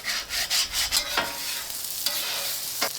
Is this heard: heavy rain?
no